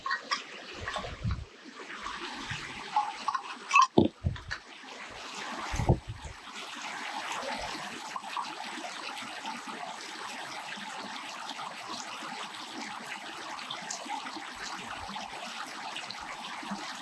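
A mountain spring runs beside a road on the way to Tao Butt with a faint, steady trickling flow, preceded by a few short knocks and clatters near the start.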